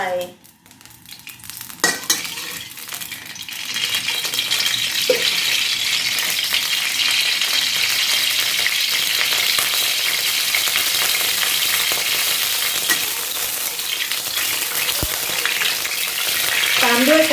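Steady, loud sizzling of oil in a hot wok while making egg fried rice with pork, with a couple of brief clanks at the start before the frying settles into a continuous hiss.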